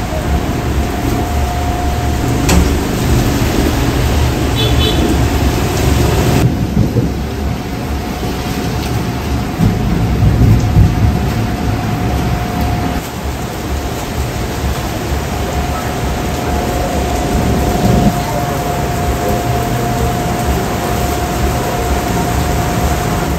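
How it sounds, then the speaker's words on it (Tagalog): Steady rain falls on an evening in a rural Philippine province, a dense continuous hiss with soft low rumbles that may be distant thunder, constant and fairly loud throughout. "Nabutan po kami ng ulan."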